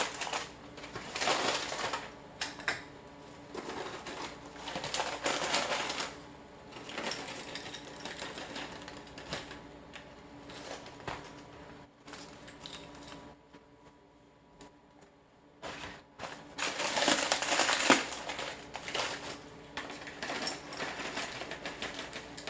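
Crispy freeze-dried peach slices are broken up by hand, giving bursts of dry crackling and crunching that come and go, separated by quieter gaps. They sound close, with no speech.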